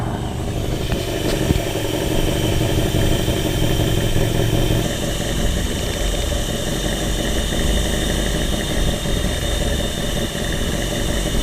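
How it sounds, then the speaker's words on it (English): A 1984 Ford LTD Crown Victoria engine idles steadily and loudly up close at around 800 to 900 rpm, a constant rumbling hum with no talking. "we're idling it around 800 to 900 rotations per minute, which is kind of where we want to be"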